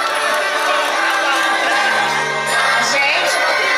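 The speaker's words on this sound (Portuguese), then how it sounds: "Uma salva de palmas, pessoal." A crowd cheers and claps at a birthday party, loud and close, a dense wash of whoops and applause throughout.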